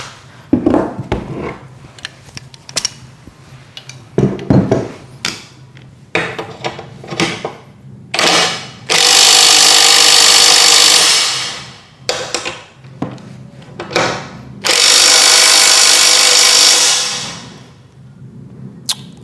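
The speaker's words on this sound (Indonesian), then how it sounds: "karena kapasitas dari kunci torsi kita terbatas, kita gunakan impact wrench." Blackfoot 21V brushless 600 Nm impact wrench tightening, giving two long, loud, steady rattling bursts of about two seconds each, with scattered clanks and knocks of handling before and between them.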